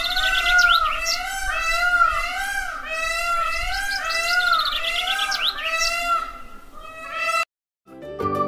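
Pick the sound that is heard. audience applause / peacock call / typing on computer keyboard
peacock call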